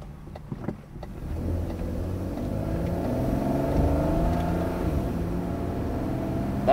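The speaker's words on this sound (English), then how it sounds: "that was my car trying to get up to 30, if you heard that." A car straining to accelerate up toward 30, its engine droning steadily and rising slightly in pitch from inside the cabin, moderately loud with a brief rattle near the start and no talk.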